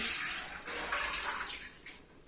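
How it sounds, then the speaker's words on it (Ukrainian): Soaking water is poured off wheat that has been steeped in water for several hours, making a steady, rushing splash that stays moderately quiet and continuous throughout. "Тепер зливаємо воду"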